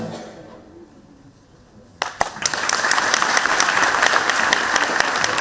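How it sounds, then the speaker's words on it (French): Concert audience breaking into applause after a children's song, sudden onset of many hands clapping after a quiet room, swelling to a loud, steady roar of clapping. "Il y avait Keren, on les applaudit très très fort"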